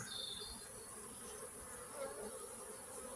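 Honey bees hum in a soft, continuous buzz while hive frames are lifted and inspected, faint and steady with a few slightly louder passes of individual bees nearby.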